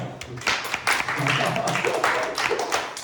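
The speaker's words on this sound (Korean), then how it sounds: "박수 한번 줄까요?" A youth congregation at a church middle and high school worship service breaks into a short burst of dense, lively clapping and applause, loud and close, lasting a few seconds.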